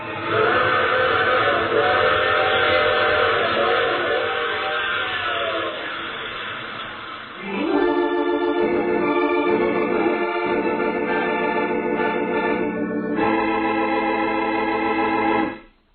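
A train sound effect from a radio drama, with a loud, sustained whistle chord that shifts pitch partway through over steady rolling rail noise, then cuts off abruptly at the end.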